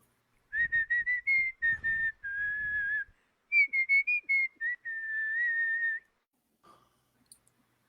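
Someone whistles the melody of a song alone, clear and close, in short phrases of bouncing notes followed by a longer held line, then stops.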